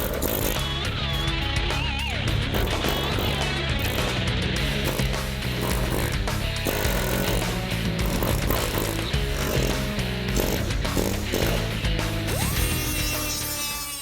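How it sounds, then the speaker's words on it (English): An air hammer chatters continuously at close range, cutting through the rusted roof metal of a 1970 Dodge Challenger, loud and unbroken with no talk over it. "Anything that's left over, well, the air hammer can make pretty quick work of it"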